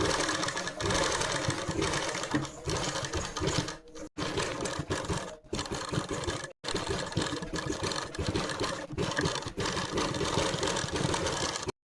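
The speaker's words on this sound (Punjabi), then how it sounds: "ਹੁਣ ਆਪਾਂ ਇੱਥੇ ਬੁਕਰਮ ਦੇ ਨਾਲ ਨਾਲ ਸਲਾਈ ਲਗਾਵਾਂਗੇ" A sewing machine stitching along buckram on a kameez neckline, a fast, close mechanical whirring rattle running in long bursts, broken by a few brief stops.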